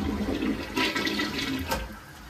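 A clogged toilet is flushed nearby, a loud gurgling, churning rush of water that swirls throughout and then begins to fade.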